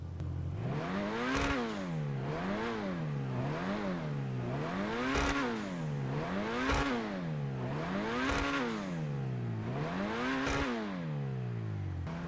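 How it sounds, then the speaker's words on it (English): In GTA Online, a Lampadati Corsita car engine revs repeatedly in a steady rising-and-falling cycle, about eight throttle blips, loud and mechanical with no talking. "Let's also take a listen to that engine."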